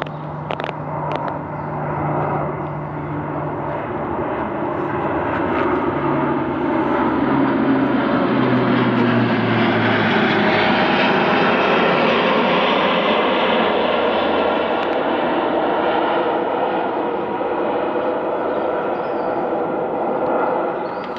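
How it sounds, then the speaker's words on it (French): An airplane flies overhead outdoors, its engine drone swelling into a loud, broad roar that holds steady for about twenty seconds before easing slightly. "Et encore un avion."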